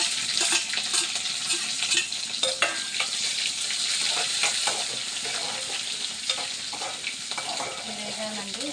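Sliced onions fry in oil in a pan, a steady close sizzle with repeated scraping and clinking as a spoon stirs them, fairly quiet with no voices.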